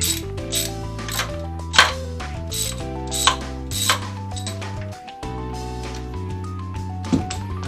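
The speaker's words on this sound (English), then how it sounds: "Just keep the wrench on until you get the plugs completely out." Ratchet wrench removing spark plugs from an engine, with repeated close clicking ratchet strokes in uneven bursts and some pauses, and no voices.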